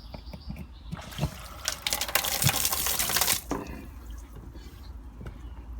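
Water bursting from a condensate pump outlet like a fountain, fault traced to the check valve; a loud splashing, gushing rush surges for a couple of seconds, then drops back to a low steady dribble and background hum.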